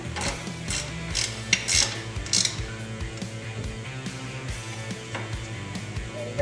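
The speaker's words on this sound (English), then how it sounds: "This one, you can use your 10mm ratcheting wrench." A 10mm ratcheting wrench turns a bolt on a Kawasaki jet ski jet pump, giving steady close mechanical ratchet clicks with rhythmic pawl ticking throughout.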